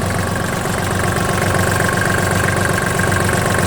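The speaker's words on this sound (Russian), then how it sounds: "Трактор у нас оборудован трехцилиндровым дизельным двигателем, 21 лошадиная сила." Kubota GT21 wheel-track tractor with a 21-horsepower three-cylinder diesel idling close by, a loud, even, steady chugging drone with a slight knock and no voices over it.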